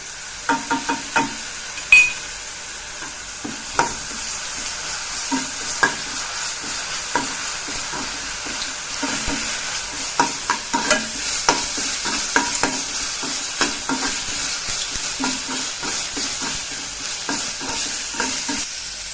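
Ginger and garlic fry in oil for capsicum chicken, a steady moderate sizzle punctuated by regular scraping stirs of a spatula against the pan, with no voices.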